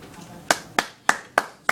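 Five sharp, evenly spaced hand claps ring out close and loud in a small group meeting, each a crisp isolated slap with a brief decay before the next.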